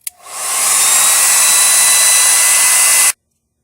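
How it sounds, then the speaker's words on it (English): A hair dryer is used to blow-dry a van's electrical plug, a Ford Econoline E350 with an AdvanceTrac fault: a click, then a steady loud whooshing roar that runs alone for three seconds and cuts off abruptly. "after we blew dry this plug even more"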